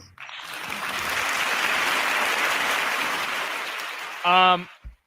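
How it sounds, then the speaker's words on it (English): Sustained crowd applause, a dense steady clatter of many hands that swells and holds for several seconds, then a brief burst of voice near the end. "You deserve a round of applause."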